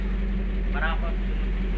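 A loud, steady low engine drone from an owner-type jeep with no muffler idles continuously, rough and unmuffled, with a brief voice heard over it.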